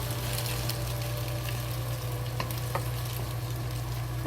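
Eggs with scallions frying in a pan, a loud, dense, unbroken sizzle close up, with a steady low hum under it and occasional faint crackles.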